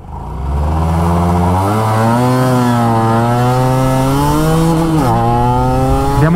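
A Honda NSR125F two-stroke motorcycle pulls away from a standing start, its engine climbing sharply through the revs, with a brief dip at a gear change before rising again, loud and close.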